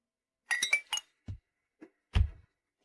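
Several sharp glass clinks ring out in a toast at a shared meal, a quick cluster of bright chimes followed by a few softer, scattered knocks and a final thud, with no talking.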